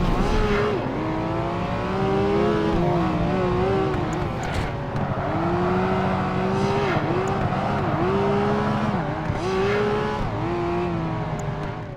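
Porsche and Ferrari race cars in a racing video game, engines droning and revving steadily through the whole stretch with rising and falling pitch sweeps and occasional tire noise, loud and continuous with no talk.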